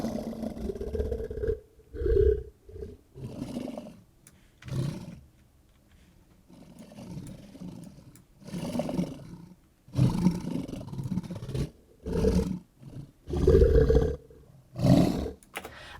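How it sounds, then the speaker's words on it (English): Deep, growling creature roars built from vocals processed in Reformer Pro for game sound effects come in a series of separate bursts with short pauses between them. Some are long, some clipped, and all sound close and heavy. "you can literally perform super crazy creature vocals"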